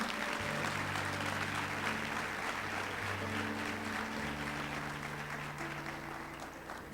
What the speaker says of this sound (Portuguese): Se você quiser aplaudir a palavra